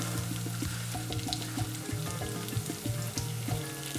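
Onions, garlic, cashew pieces and biryani masala fry in hot oil for a vegetable biryani, giving a steady close sizzle with small crackles and spatters, and no voices.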